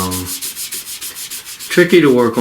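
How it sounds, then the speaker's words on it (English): Fingers smudge soft pastel across curved paper in a flower drawing, giving close, soft, rhythmic rubbing strokes with a brighter scratchy burst near the end. "Alright, let's try to smudge this."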